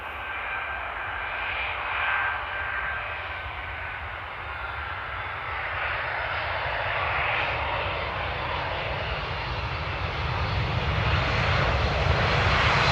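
A Boeing 777 jet arriving at Amsterdam Airport in the rain gives a steady, loud engine roar that swells gently over several seconds, with no talking.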